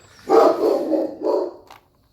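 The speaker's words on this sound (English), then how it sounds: "Dog would be the death of me." A dog lets out a close, loud, drawn-out bark that breaks into two quick parts and ends abruptly. No one speaks.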